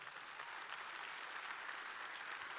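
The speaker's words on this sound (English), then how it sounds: "Please, a round of applause." Steady audience applause at a county business program, a dense even wash of many hands clapping that continues for the whole short stretch, fairly distant and without voices.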